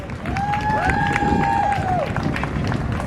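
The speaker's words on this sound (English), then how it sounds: "Give him a round of applause, guys." A festival crowd on a beach at an outdoor council presentation applauds and cheers, loud and steady, with a whistle rising and falling over the clapping and no voice over it.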